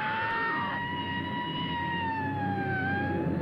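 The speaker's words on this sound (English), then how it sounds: "I thought it was a scream, it was ended up being a siren." A wavering siren from the 1950s film The Snow Creature wails steadily, its pitch sliding slowly up and down, with a faint hum beneath and no talk.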